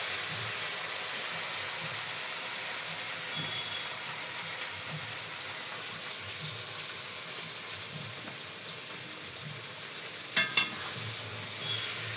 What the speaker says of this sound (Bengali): এই যে দেখো টমেটো কেটে নিয়েছে, এখন অল্প অল্প কষানো হচ্ছে।